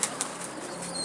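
A carrier pigeon flaps its wings as it takes off, a couple of sharp wingbeat bursts at the start and then a soft fluttering fading away, heard fairly close in the open air.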